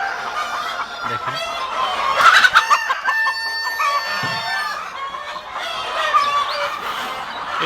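Many hens cluck and squawk from nesting boxes in a poultry shed where they sit laying eggs, a busy overlapping chorus of close cackles with a rooster crowing among them.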